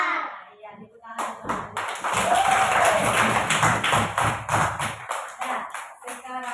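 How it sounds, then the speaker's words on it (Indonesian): Children clapping their hands together in a classroom, a burst of many hands lasting several seconds and fading out, with a teacher's voice speaking before it. "Iya, tepuk tangan."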